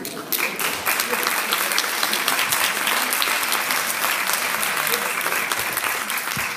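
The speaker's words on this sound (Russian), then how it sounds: "спасибо за ваши аплодисменты" Audience at a Russian–French town friendship event applauding steadily and loudly, a dense wash of clapping sustained throughout with a voice speaking over it.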